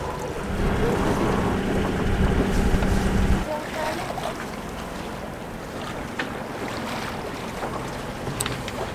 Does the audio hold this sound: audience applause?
no